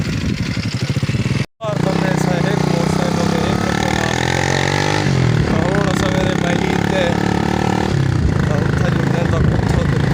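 A motorcycle engine runs steadily and loud throughout, close by, with a brief cut near the start; people talk over it.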